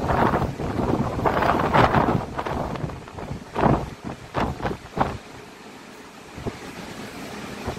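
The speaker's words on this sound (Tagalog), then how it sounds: "Kaya medyo malakas yung hangin." Strong wind aboard a ship transiting the Suez Canal buffets the microphone in loud, gusty bursts, with rumbling low-end surges that rise and fall before easing off near the end.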